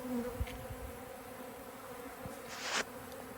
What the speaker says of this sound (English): Bees are instantly attracted to me only because they sense the warmth